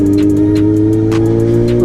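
Kawasaki ZX-4RR 400cc motorcycle engine revving and pulling hard under acceleration, a steady loud close-up drone with rising harmonic tones throughout.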